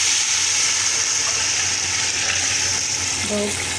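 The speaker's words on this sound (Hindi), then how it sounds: "अब इसके अंदर हम यखनी डाल देंगे।" Meat stock (yakhni) poured into a pot of fried beef while making beef pulao, setting off a loud, steady sizzling hiss that runs unbroken from start to finish.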